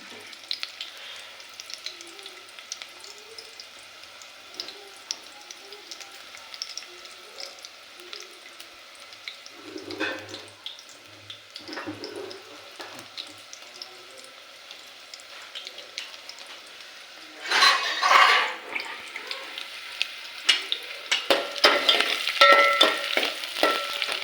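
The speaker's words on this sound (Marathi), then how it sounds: "आता कांदा मस्तपैकी परतत आहे" Onions frying in a pan while cooking village-style mutton, a soft steady sizzle with spatula scrapes, growing louder and busier toward the end, with faint background voices.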